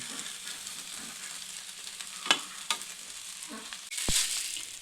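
Orange rice being stirred and mixed in a pan, with a soft steady sizzle and a few sharp scraping clicks of the spoon against the pan, faint and close, with no voices.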